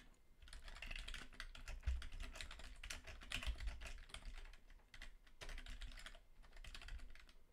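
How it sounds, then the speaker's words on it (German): Soft keystrokes patter steadily on a computer keyboard while editing in Emacs, close and quiet, with irregular clusters of clicks and brief pauses and no talking. "Irgendwie kann ich hier nicht tippen."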